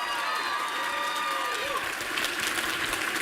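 An awards-show audience applauds, with steady dense clapping from a large crowd throughout, a few cheers mixed in and a voice briefly over it.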